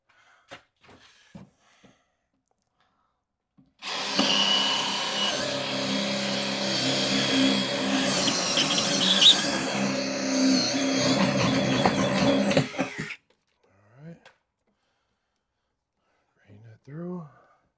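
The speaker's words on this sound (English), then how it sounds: "Let me get my drill." A power drill boring a pilot hole through wood whines steadily for about nine seconds, loud and close, with a few brief voices before and after.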